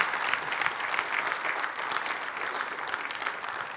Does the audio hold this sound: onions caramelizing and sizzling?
no